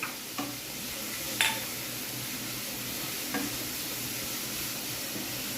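Chopped onion and green chili sizzling in a pan, a steady close hiss of frying with a few faint clicks of stirring.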